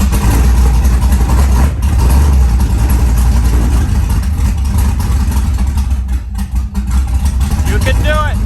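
A carbureted engine in a third-generation Chevrolet Camaro runs loud and close with a steady, rough idle, and a brief dip near the end.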